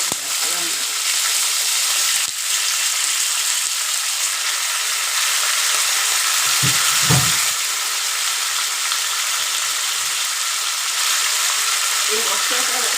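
Chicken hits a hot pan of tempered spices and fries with a loud, steady sizzle that holds for several seconds, with a few soft clinks and stirs partway through.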